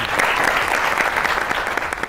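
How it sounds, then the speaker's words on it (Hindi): Studio audience applause for two guests on a comedy talk show, a dense, steady burst of clapping that fills the room loudly from start to finish. "बहुत सी तालियां होनी चाहिए दोनों मेहमानों के लिए"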